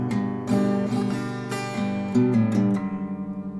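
Acoustic guitar picking a verse pattern in G with a few added melody notes, several close, clear strums and plucked notes ringing one into the next, alone and at moderate volume.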